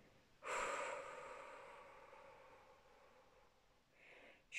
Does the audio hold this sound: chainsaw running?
no